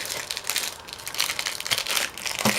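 Crinkling, tearing paper wrapping pulled open on a mail-order anime subscription box, a steady run of close rustles and rips with brief louder bursts, no voices over it.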